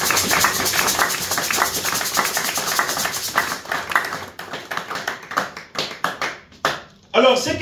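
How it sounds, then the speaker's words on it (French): A church congregation applauds loudly and steadily at a worship service, the dense clapping thinning out into scattered claps and a few final strokes. "Nous acclamons très très très très fort pour la parole de Dieu."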